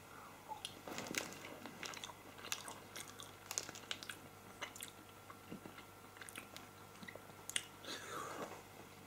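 Faint, close crunching and chewing sounds come in irregular bites as someone tastes a chili dip, with soft mouth noises between bites and no clear speech.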